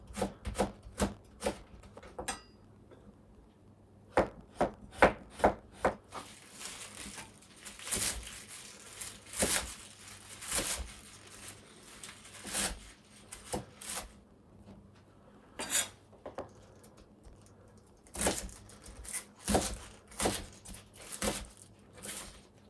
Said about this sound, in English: So, I'll just julienne these. So, let me get all of this cut up,